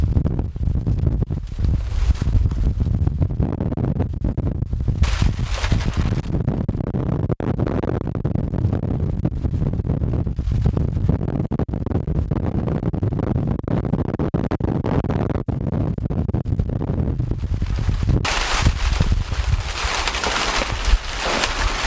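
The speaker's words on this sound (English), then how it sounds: "So windy that I secured a shelter with a" Strong outdoor gusts buffet the microphone continuously, with rumbling low roar and bursts of harsher hiss while a DIY Tyvek emergency shelter is set up in windy conditions.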